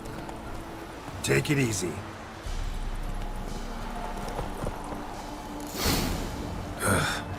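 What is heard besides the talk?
horse Roach hooves clip-clopping in The Witcher 3 video game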